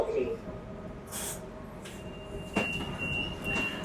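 KLIA Aerotrain pulling into its terminus station, a steady rail rumble with a faint wheel squeal and a brief door or brake hiss in an enclosed platform, with people talking nearby.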